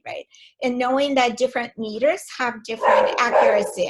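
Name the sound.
dog barking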